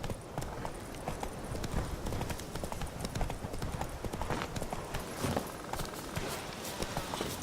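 Roach, a horse in The Witcher 3, gallops in a rapid, rolling clip-clop of hooves, close and continuous over a low ambient backdrop.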